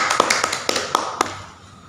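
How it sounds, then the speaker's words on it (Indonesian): Students in a classroom clap for a classmate, giving a short run of about half a dozen sharp, fairly close claps that quickly taper off. "tepuk tangan untuk teman kalian"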